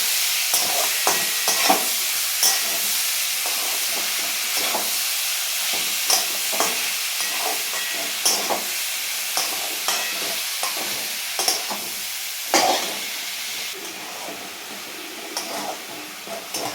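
Boiled young jackfruit frying in ghee, a continuous close sizzle broken by repeated scraping stirs at irregular intervals.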